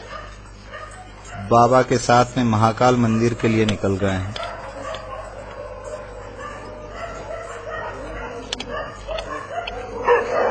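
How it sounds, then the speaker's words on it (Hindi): Several cremation-ground dogs bark in a quick burst near the start, walking alongside a procession headed to the Mahakal temple, then fall back into a noisy outdoor crowd while someone speaks over the scene. "आपको अब दिखाई देंगे कि इनके साथ में शमशान में रहने वाले कुत्ते भी"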